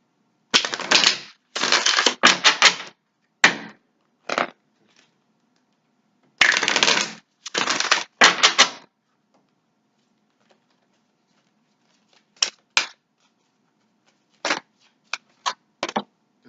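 Tarot cards being shuffled for a reading: several bursts of crisp riffling and flapping, a long pause, then a few short taps and slaps of cards, close and clear with no talk.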